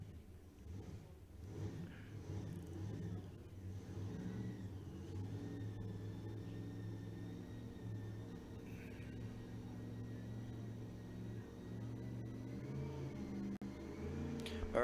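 The engine of a Chevrolet Monza drag race car, the Detroit Tiger Monza, idles and revs at a steady low rumble, somewhat distant and muffled, holding a sustained tone throughout with no talk.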